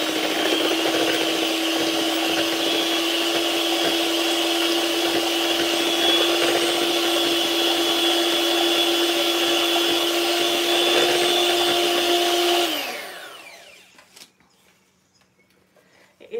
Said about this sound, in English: I'm going to put the blender on for 30 seconds